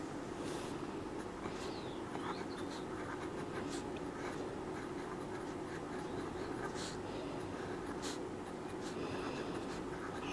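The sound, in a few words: writing a math solution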